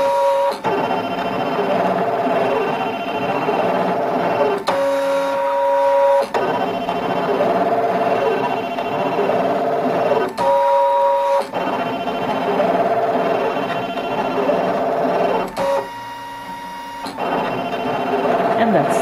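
A Brother ScanNCut cutting machine cutting seven ovals into material on a mat gives a steady, close mechanical whir of motors and carriage movement, with brief pauses between passes.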